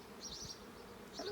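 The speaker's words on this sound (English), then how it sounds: "Hello, bees." Bees buzz steadily around an open hive's brood box during a beekeeping inspection outdoors, a close, continuous droning hum with a few louder passes of individual bees, no talking.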